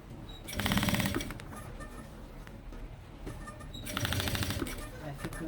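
A sewing machine stitches a Kipling-style pencil case in two quick rattling bursts separated by a quieter pause, close and fairly faint over low room noise.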